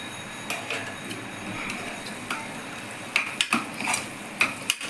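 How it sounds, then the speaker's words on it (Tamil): Mushroom gravy with homemade ground masala powder is stirred in a pan over a soft sizzle, with light spoon scrapes and a quick run of clinks against the metal toward the end. "நல்லா கிண்டி விட்டுக்கணும்."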